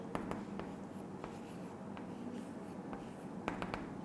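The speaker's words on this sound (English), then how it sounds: "We should draw 8 cakes here." Pencil drawing small cakes on a class 3 workbook page: quick, close scratchy strokes and light taps in short bursts, quiet and dry, with no voice.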